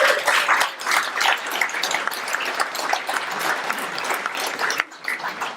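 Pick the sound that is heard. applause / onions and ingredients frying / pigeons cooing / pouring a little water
applause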